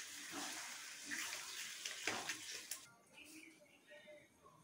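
Water pours in a short, soft stream into gravy in a cooking pan, a faint splashing hiss that fades after a few seconds into light clinks.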